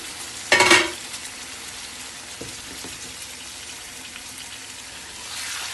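Jamaican-style chicken curry cooks in a pot, opening with a short burst of sizzling as it is stirred. Quieter scraping and tossing with a spoon follow, faint and close.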